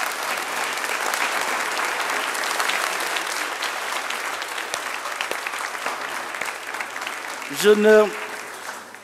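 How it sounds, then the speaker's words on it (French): Church congregation at a Mass applauds, steady broad clapping filling the space for several seconds, fading slightly before a brief spoken word near the end. "On va les applaudir."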